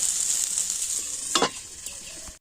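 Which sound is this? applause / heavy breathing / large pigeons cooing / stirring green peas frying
stirring green peas frying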